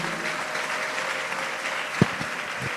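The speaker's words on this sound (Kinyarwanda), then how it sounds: "dukomere Imana yacu amashyi menshi tuyishimire" A church congregation claps at the close of a gathering with choirs, a steady, fairly soft patter of many hands filling the room, with one sharper knock-like hit near the end.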